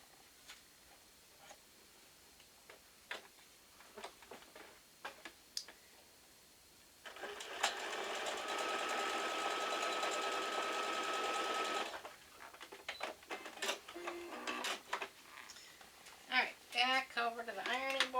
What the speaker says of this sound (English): We want to sew down the end.